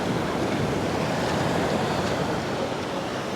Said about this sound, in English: The waves are coming in so far.